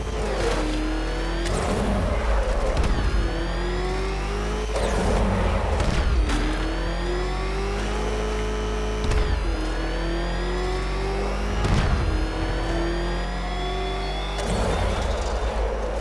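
In the video game Batman Arkham Knight, a car engine roars and revs during a chase, rising and falling in repeated acceleration sweeps, loud and close throughout with no talking.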